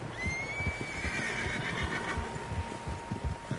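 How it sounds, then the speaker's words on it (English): Several horses whinny and neigh in Red Dead Redemption 2, a long rising cry near the start over a steady bed of hoofbeats and outdoor ambience, with other calls trailing off behind. "Horses, quite a few of them."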